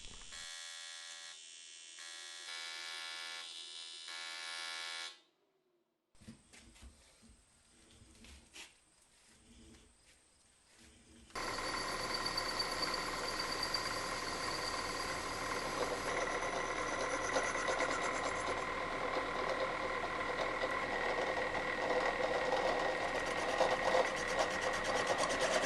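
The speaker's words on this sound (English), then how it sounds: "This was my first time trying to weld dirty cast aluminum" Welding dirty cast aluminum for a budget off-road scooter build: a steady buzzing, crackling arc hum that cuts out briefly, then resumes louder and continuous for the rest of the stretch, close and alone.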